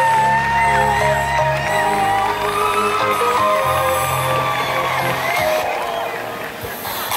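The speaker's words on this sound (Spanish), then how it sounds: "Otro aplauso, se lo merecen" A crowd whoops, shouts and cheers loudly and continuously for students at an evening closing and awards ceremony, with tonal music or voices running underneath throughout.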